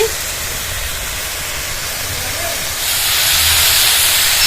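Vegetables for momo filling sizzle in a pan with a steady, close hiss that grows noticeably louder and brighter partway through.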